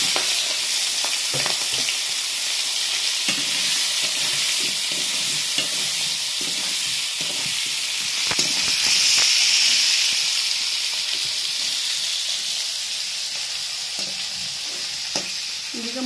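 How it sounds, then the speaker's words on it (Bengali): Prawns fry in a pan with a loud, continuous close sizzle and hiss, broken by frequent scraping and stirring clicks, with no talking. "এবার চিংড়ি মাছগুলো ভাজা হবে।"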